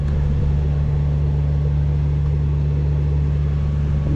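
A sailboat's inboard engine runs steadily at cruising RPM of about 2200, a continuous low drone and hum with no talk over it.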